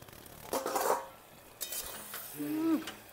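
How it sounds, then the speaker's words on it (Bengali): Fish heads and Malabar spinach curry being stirred in a pot, with soft scraping and clinking of a utensil against metal at moderate volume, a brief low pan sizzle, and no talk. "ঢাকনাটা তুলে এবার একটু ভালো করে একটু নেড়ে চেড়ে দেবো।"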